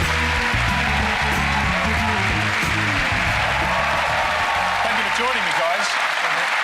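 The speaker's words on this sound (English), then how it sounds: "Everyone else will give you a huge round of applause." A studio audience breaks into dense, sustained applause and cheering that fills the room, loud and continuous before tapering off at the end, with a voice speaking underneath.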